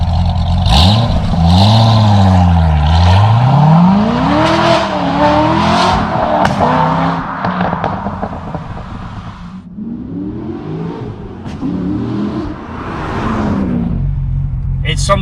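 A Chevrolet Corvette Z06 Carbon Edition engine revs hard and accelerates, its pitch climbing and falling through gear changes, loud and close, with a voice briefly audible underneath.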